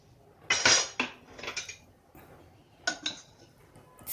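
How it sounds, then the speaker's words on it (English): Cooked dal is mashed with a dal masher in a steel pot, heard as a few close metallic clinks and scrapes in short bursts with quiet pauses between. "Now I'll be mashing this with a dal masher."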